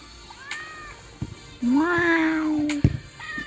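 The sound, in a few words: cat meowing in video game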